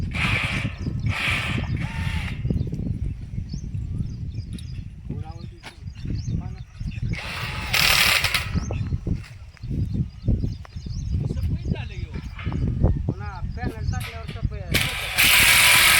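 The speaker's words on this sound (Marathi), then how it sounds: "आता सध्या आम्ही मशीनच्या सहाय्याने ते आवळून घेत आहेत" Repeated whirring bursts from a power tool, like an impact wrench, rattle nearby tightening nuts and bolts while installing a solar pump, as people talk loudly throughout.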